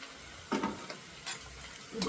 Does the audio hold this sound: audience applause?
no